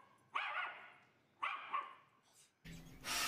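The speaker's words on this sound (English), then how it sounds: "look at those terrifying dogs out of hell there" Dogs in a The Walking Dead episode bark loudly and close by, three separate sharp barks spaced about a second apart, followed by a burst of noise.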